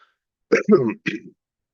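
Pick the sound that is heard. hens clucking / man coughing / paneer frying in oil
man coughing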